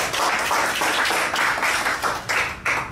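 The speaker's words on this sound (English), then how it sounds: "So, round of applause." An audience at an Internet of Things meetup in Glasgow applauds with dense, continuous clapping that stays loud and even for the whole stretch, with no voices over it.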